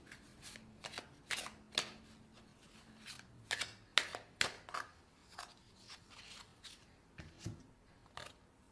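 Oracle cards from a Soul Trees deck are shuffled by hand in a quiet room, a close series of crisp, irregular riffling bursts and soft slaps with short pauses between them.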